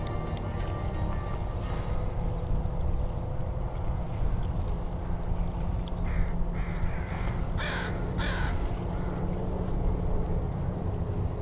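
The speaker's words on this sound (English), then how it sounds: "Let's get this crow just walking around." An American crow caws repeatedly in a park, several loud harsh calls clustered in the second half over steady low outdoor rumble and background noise.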